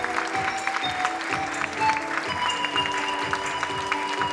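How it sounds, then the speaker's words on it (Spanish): An audience claps steadily at an Andean fashion show on the altiplano, a dense crowd applause with a few brief whistles above it, fairly loud and sustained. "Un aplauso más grande para la artesana Lidia Villalobos Valdés"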